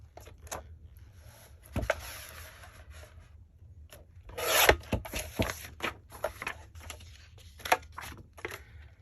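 Recycled hot chocolate box cardboard being cut, with a series of crisp snipping and rasping bursts of varying strength, closest and busiest near the middle, separated by quieter rustling handling.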